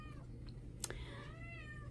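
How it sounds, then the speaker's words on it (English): Doll-faced Persian cat meowing, a faint drawn-out meow over steady low background hum, brief and somewhat distant. "a doll-faced Persian cat?"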